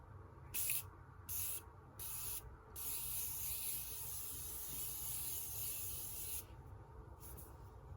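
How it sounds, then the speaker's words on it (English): Several short bursts of Morphe setting spray misting onto a face, then one long sustained hiss of spray, fairly close and soft, with no talking. "So I'm going to go in with the Morphe setting spray."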